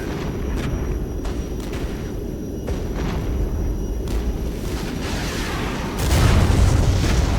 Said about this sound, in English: Here we go. Hornet rockets. And bombs.